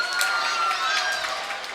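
At a boys' water polo state championship game, the crowd roars steadily and claps through a loud, dense wash of cheering while someone talks over it.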